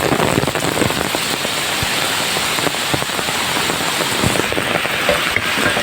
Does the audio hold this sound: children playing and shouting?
no